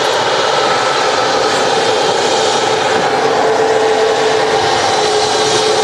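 CRJ regional jet taxiing out at Manchester Airport, a loud, steady engine roar and whine held without a break, with no voices over it.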